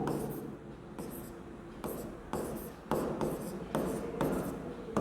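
Chalk or marker scraping across a board in a classroom, a series of rhythmic scratchy strokes close by, each lasting under a second with short breaks between them.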